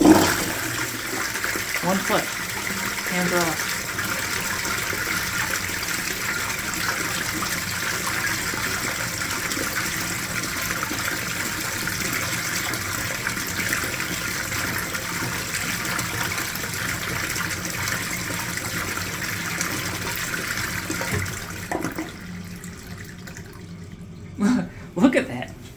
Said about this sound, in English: this is a normal toilet flush.